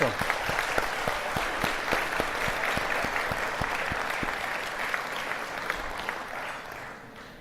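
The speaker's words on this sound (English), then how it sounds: "I would like us to give a big round of applause to the people who made this wonderful dinner" Diners at an awards ceremony dinner applaud the catering staff, a steady room-filling round of clapping with a few distinct sharp claps standing out, slowly fading toward the end.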